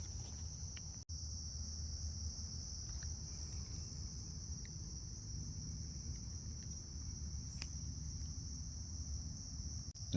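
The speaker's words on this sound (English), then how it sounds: "Them cicadas are going to make it real easy to sleep." Steady, dense cicada droning at a high pitch fills the night air in an urban cemetery without pause, with a faint low rumble underneath.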